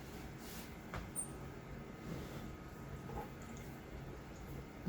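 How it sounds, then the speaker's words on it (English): Water running steadily as an object is rinsed off while making Valentine's Day chalk decor, a continuous broadband wash with faint drips and splashes. "I'm going to rinse this off real quick."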